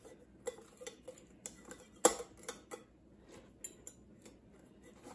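Cabbage with dried dill and garlic being pressed into a glass Ball fermentation jar, giving sparse, quiet clinks and taps of glass and utensil at irregular intervals, one sharper knock midway, with no talk.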